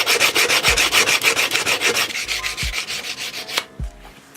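Sandpaper rubbing back and forth along the edge of a friction folder knife blade at a higher grit, a steady rapid run of close, loud scratchy strokes, with a few soft knocks near the end.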